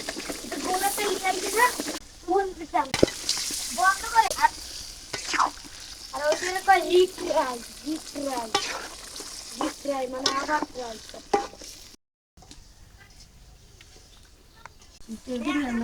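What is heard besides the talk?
chicken meat frying with spices in a pan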